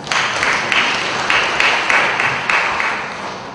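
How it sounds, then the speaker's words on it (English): Loud, dense clapping from a congregation at a funeral memorial service fills the whole clip, steady and close, with a few sharper claps standing out. "Let's give him a clap."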